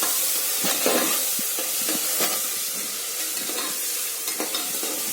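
Onion and tomato sauté in a pan for sambar rice, with a constant hiss of frying broken by repeated scraping stirs of a spoon against the pan, close and fairly loud.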